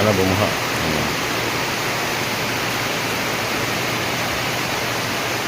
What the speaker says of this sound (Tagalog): May baha na yan